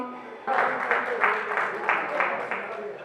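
An audience at a Punjabi poetry gathering in Gujranwala breaks into loud, sustained applause. The clapping starts abruptly and carries on in dense rippling waves.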